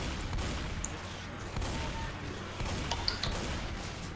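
Gunfire from the video game Left 4 Dead 2, played on expert mode: a dense, steady spray of shots and chaotic combat noise throughout, with sharper cracks standing out near the end.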